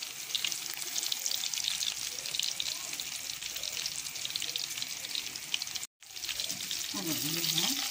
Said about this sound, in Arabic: هنقلي احلى بوفتيك